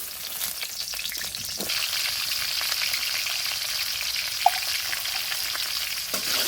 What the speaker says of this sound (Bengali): পটলগুলো আমি শুধু